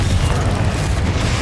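Confringo fire spell exploding in a Hogwarts Legacy battle: a dense, continuous low rumbling roar with steady loudness, heavy bass boom and no talk.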